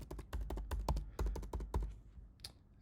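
Password entered on a computer keyboard: a quick run of around a dozen crisp key clicks at an uneven typing rhythm, close and fairly quiet, tapering off into a few last taps.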